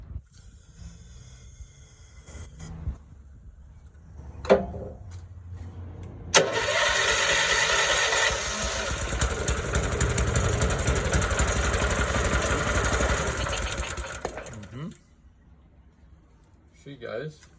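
An old Snorkel cherry picker engine, primed with a squirt of starting fluid, cranks with a few sputters, then catches and roars into a loud, steady run for several seconds before cutting back; a voice speaks briefly near the start.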